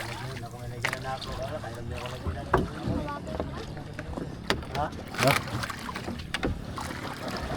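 Paddle strokes splash and knock against a wooden boat on the water, with wind noise and people talking nearby.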